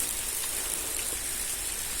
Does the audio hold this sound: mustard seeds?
no